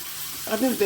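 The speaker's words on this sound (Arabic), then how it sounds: "غادي نديرهم يتشحروا شويه" Garlic and mushrooms sizzle as they fry in oil, a short crackling burst that rises in the second half and is heard close up.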